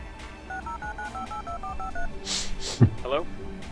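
Ed's phone in the video game Resonance gives off a string of short electronic telephone tones, clear and mid-loud amid a busy game soundscape with other noises layered around it.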